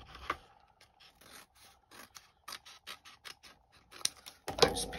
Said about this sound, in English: tilting the scissors to the side so that the blade slides simply through